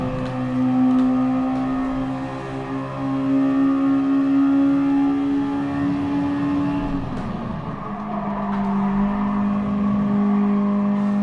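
A Mazda Roadster Touring engine at Laguna Seca in a racing video game, a steady droning note that holds, dips with a gear change, then climbs again under acceleration, close and prominent with no talking.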